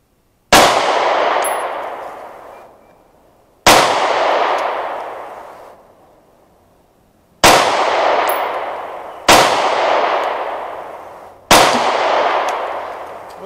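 Five sharp pistol shots from a Walther PPS with an 8-round magazine each hit a steel target. Every shot is followed by a long metallic ring that fades out, with uneven pauses between shots.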